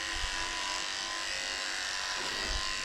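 Electric grooming clippers with a number 2 comb attachment run steadily on a thick-coated Bichon-Poodle mix's body, a continuous close buzz with no talk.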